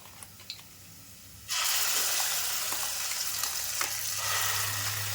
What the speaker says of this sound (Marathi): वाटण व्यवस्थित असं परतून घ्यायचं तेलामध्ये